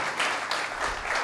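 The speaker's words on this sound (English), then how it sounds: "could I request each of you to join me in giving both my panelists a round of applause" Audience applause for two panelists at a supply chain conclave in India, a dense, steady wash of many hands clapping close by through the whole short burst.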